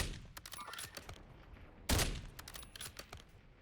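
Warzone gunfire crackles in rapid irregular bursts of shots, with one louder, heavier blast near the middle, all fairly distant and without voices.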